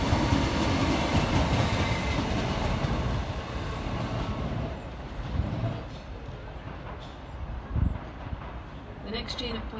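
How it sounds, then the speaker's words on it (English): A Scotrail class 320 electric train runs through Pollokshields East station on the Glasgow high level line, a loud continuous rumble of wheels and carriages close by that eases off partway through before a final clatter. "Next to pass through on the high level for Scotrail is 320-404, working 2I-27 from Glasgow Central round to Glasgow Central via Maxwell Park."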